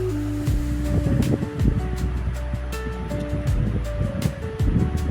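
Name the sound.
prawn curry being poured into a serving bowl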